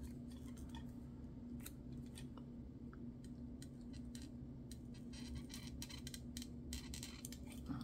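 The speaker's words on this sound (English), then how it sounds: "I'm going to trim it down here as well" Scissors make a series of quiet, crisp snips while trimming clear plastic material for a vintage-style key charm; the cuts come in irregular clusters over a soft room hiss, and no one speaks.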